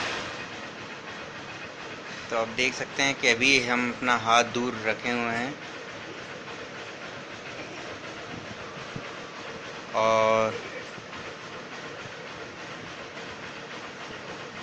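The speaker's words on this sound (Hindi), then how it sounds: "तो ये हमारी गाड़ी चालू है।" A motorbike fitted with a newly installed kill switch idles with a steady, even rumble throughout, while someone talks over it near the start and a short tonal buzz sounds near the end.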